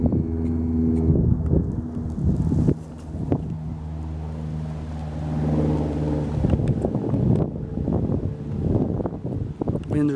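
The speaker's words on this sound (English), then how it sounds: "Wind's really picking up." Gusting wind buffets the microphone while kayaking on the Tennessee River, a steady loud rumble that swells and eases over low engine-like drone, with no talking.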